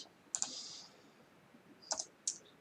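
A computer keyboard is typed on during GIS field-calculator work, making a few sparse, faint key clicks: one short burst near the start and two quick taps near the end, separated by quiet.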